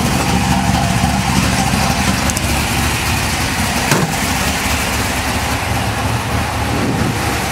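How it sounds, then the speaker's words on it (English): A 1965 Ford Mustang Shelby GT-350 tribute with a 289 V8 idles with a loud, steady, rough rumble that runs unbroken and close throughout, with no talk over it. "This is a great running Mustang."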